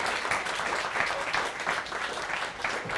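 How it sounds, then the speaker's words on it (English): Sustained audience applause after a talk at a university event on horror, art and faith, moderately loud and even, with steady clapping from a room full of people and no speech over it. "And one more round of applause for Dasha."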